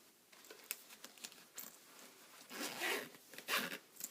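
A zipper on a sewn bag is pulled shut in several short, scratchy strokes, ending in a longer, louder run. Close and fairly quiet.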